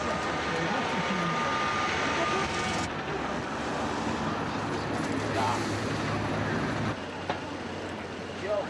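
Dublin city-centre streets with yellow double-decker buses, trams and tour coaches pass in a steady, close, broadband traffic roar. The rumble stays continuous and loud, shifting slightly in tone partway through, with no voices.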